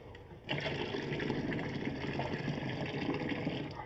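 Cold water pours into a pot for Kashmiri pink tea, a steady, close splashing fill that starts suddenly and runs on without talk.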